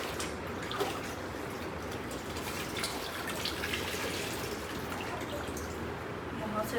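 Water splashing and washing across a house floor being cleaned after a dust storm, a steady close wet wash that runs without pause.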